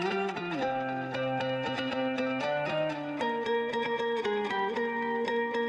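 A bass guitar carries the melody through an octave effect, plucked notes doubled an octave apart, steady and prominent in a full mix with a bright repeated percussive tick over it.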